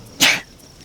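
A single short, sharp sneeze bursts out close by, then quiet.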